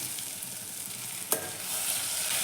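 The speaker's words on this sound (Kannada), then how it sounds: "ಇವಾಗ ನಾನು ಇದಕ್ಕೆ ಟೊಮೆಟೊವನ್ನು ಸೇರಿಸ್ಕೊತೀನಿ." Chopped tomato goes into onions frying in a pan, with a brief sharp splash and a crackle, then a steady soft sizzle that swells slightly as frying continues.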